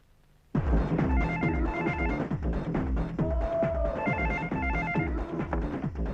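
A telephone bell rings in repeated bursts, loud and close, with a short melodic tone partway through and no talking.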